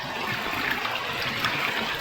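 Pure spring water trickles in a steady, close, unbroken wash through a small stream gully, with no voices over it.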